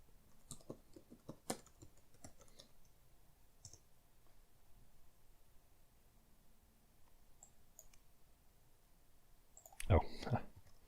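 Sparse clicks and key taps on a computer keyboard while a database password is typed, faint and irregular in a quiet room, with a brief louder burst near the end.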